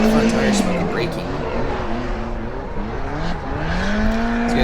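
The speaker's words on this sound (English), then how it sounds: "Look at all that front tire smoke and braking." Pro-am drift competition cars at Lone Star Drift, engines roaring loud with wavering revs and a sustained squealing tire tone, heard under commentators talking.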